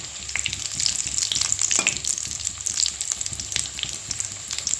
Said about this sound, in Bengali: দেখুন বন্ধুরা, এবার আঁচটি একটু বাড়িয়ে দিয়েছি। দেখুন ভাজা হচ্ছে